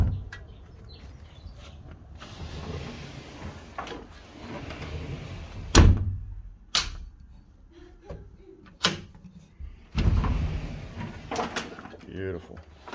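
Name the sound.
glass sliding door sliding on new rollers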